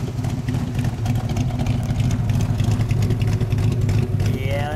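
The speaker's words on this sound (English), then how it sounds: "Let me get just a little exhaust sound." A 1966 Acadian Canso SD Sport Deluxe engine idles with a deep, steady exhaust rumble, close and continuous throughout.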